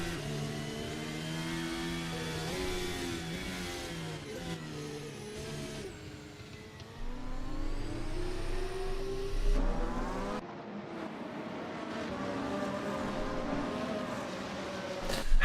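Formula Hybrid race cars in a racing video game, engines revving and accelerating through rising and falling gear pitches, several cars overlapping at moderate loudness.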